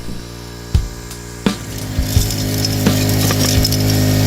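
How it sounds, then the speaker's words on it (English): A mini gold dredge vacuums rocks and sand from clay on shallow bedrock in a New Zealand stream, a steady churning roar with sharp knocks and clatters of stones rattling up the hose. "I like vacuuming rocks."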